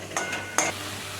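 Stirring okra curry with yogurt in a pan, two brief scraping strokes with a light metallic clink over a faint sizzle, close and short, with no talk.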